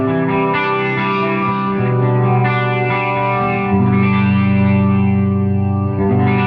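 Gibson Les Paul electric guitar played through an Ampero effects unit, producing a sustained, thick tone with chorus, echo and mild distortion, with chords ringing continuously and loudly with no gaps.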